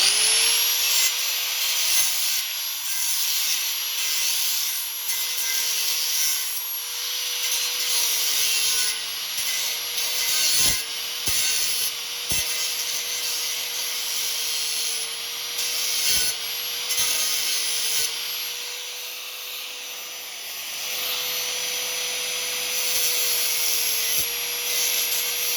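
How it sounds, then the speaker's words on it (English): A small angle grinder works continuously on a welded seam of a sheet-metal lawnmower pull-tractor body, a steady loud high whine with brief ticks and bumps as the disc catches, no talking. "I'll take my little grinder. And I'll grind that off there."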